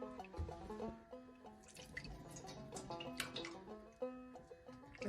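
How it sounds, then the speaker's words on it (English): Wood ash lye drips through cheesecloth in quick, irregular close-up drops and trickles, quiet and continuous with no voices. "we're going to put this through the cheesecloth"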